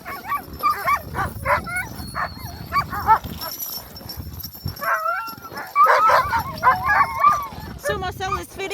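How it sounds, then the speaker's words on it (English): Sled dogs in Svalbard yip, whimper and bark in an excited chorus while being fed seal fat outdoors, close and loud, with people talking over them. "So Marcel is feeding the dogs with the seal fat."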